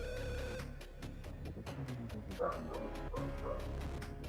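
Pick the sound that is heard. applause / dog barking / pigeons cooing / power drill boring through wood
dog barking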